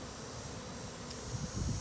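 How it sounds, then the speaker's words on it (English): A swarm of honeybees settling into a hive box baited with lemongrass hums as a steady low buzz close by, swelling louder in the last moments. "these bees all should settle down and get right inside this box"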